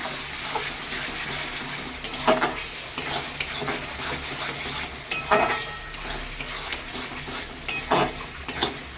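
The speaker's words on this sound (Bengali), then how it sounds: "এদিকে আমার মশলাটা কষানো হয়ে এসেছে" A spatula scrapes and stirs spice paste frying in a pan for a home-cooked mutton and pulao meal, steady sizzle underneath with several sharp metallic clinks of utensil on pan, close and fairly loud, no voices.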